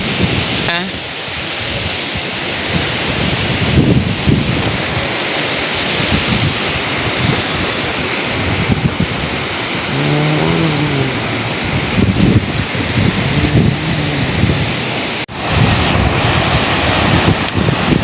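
A small waterfall pours beside a misty mountain trail near Sri Lanka's Adam's Peak, a continuous loud rush of water mixed with wind buffeting the microphone, and a faint voice briefly audible in the middle.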